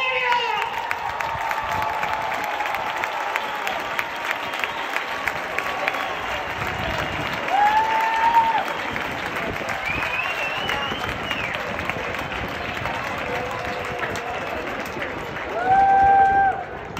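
Concert crowd applauding and cheering in Toledo, continuous dense clapping with whistles and shouts, swelling louder near the end.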